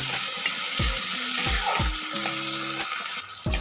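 Chopped tomato frying lightly in hot oil in a pan for a fish curry, giving a steady soft sizzle with occasional stirring clatter, close and without talking.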